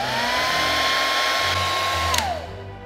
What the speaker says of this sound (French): on va utiliser un sèche-cheveux pour amollir cette partie.